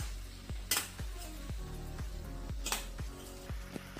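A spoon works cauliflower through masala in a pan, giving steady rhythmic scraping and clinks about every half second with light sizzling underneath and no talk.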